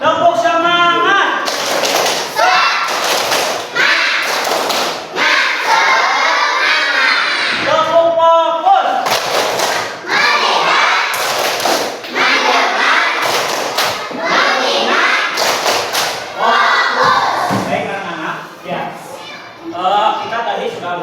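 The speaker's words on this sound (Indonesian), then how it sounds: "Tepuk semangat." Classroom of students performing a rhythmic tepuk semangat spirit clap, loud patterned bursts of clapping and thumping repeated in groups, mixed with young voices chanting along throughout.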